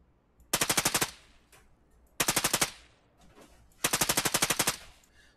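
Three bursts of automatic rifle fire from a shooter game, Operation Harsh Doorstop, each a rapid string of sharp cracks lasting about half a second, separated by brief pauses, crisp and close.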